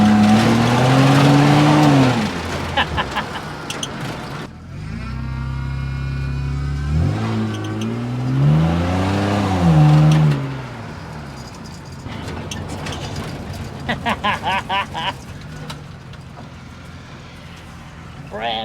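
A car with its body cut in half and widened, a new windshield fitted on a $1000 budget build, drives and revs on its first run, the engine rising and falling loudly throughout while people talk and shout over it.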